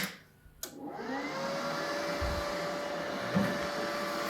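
Steady broadband hiss of shielding gas flowing from the nozzle of a Dnipro-M MIG semi-automatic welder, with a faint tonal line, starting after a brief click and holding constant throughout.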